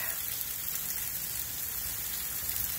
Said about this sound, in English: Okay, we got freezing rain.